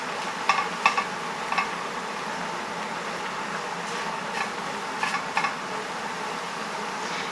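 Chopped mushrooms hit a hot pan of lentil bolognese, giving a steady low sizzle with a few sharp clatters and scraping stirs scattered through, close by and without speech.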